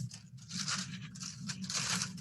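A sheet of tracing paper being handled close up, with crisp crinkling and rustling in uneven bursts, quiet and alone with no talk.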